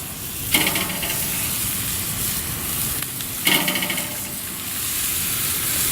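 Buffalo chicken burger patties laid oil side down into a hot pan, two sharp sizzling bursts that settle into a steady, close hiss of frying.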